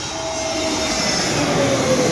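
An IndiGo passenger airplane passes overhead, a steady broadband roar that holds loud and even for the whole stretch, with a faint high whine riding on top.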